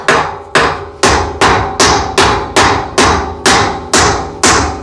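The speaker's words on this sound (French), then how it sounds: "On va y aller avec le marteau." Steady hammer blows drive large roofing screws into a wooden duck house, about ten sharp strikes at an even beat, each loud and close with a short ringing decay, no talking.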